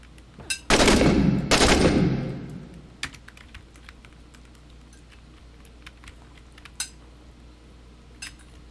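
Two heavy bursts of automatic gunfire from a rifle on burst-fire setting in the Iraq war shooter 6 Days in Fallujah, loud and close, followed by quieter clicks and small impacts.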